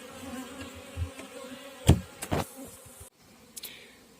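Honeybees buzz around a hive as it is being insulated for winter, with a steady low hum and a few louder passes near the ear, including sharp close bursts midway.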